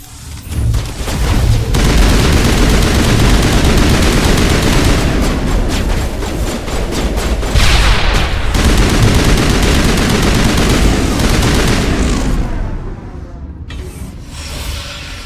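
Sustained gunfire in the Mass Effect video game, rapid bursts of automatic weapons with heavy booms, loud and continuous for most of the stretch before tapering off near the end.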